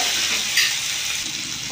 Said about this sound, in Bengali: ভালো করে নেড়ে নেব মশলা